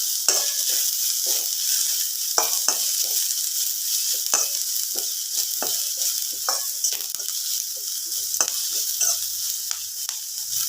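Onions and carrots sauté in a hot pan with a bright, continuous sizzle, punctuated by frequent scraping strokes of a stirring spoon, close and fairly loud, with no talking.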